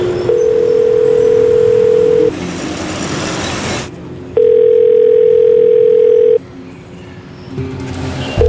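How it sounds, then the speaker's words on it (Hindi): A telephone rings in an office scene of a Hindi TV crime drama, announcing a call from the police commissioner: loud, steady electronic tones in two long bursts separated by a pause, with a short third one starting at the end. "साहब पुलिस कमिश्नर साहब का फोन आया है, आपसे बात करना चाहते हैं।"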